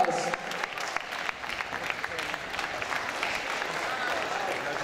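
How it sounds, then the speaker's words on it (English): An audience applauds after a 90kg final at a combat sports event, a dense, steady wash of clapping from a crowd that carries on throughout. "One more massive round of applause for both these guys."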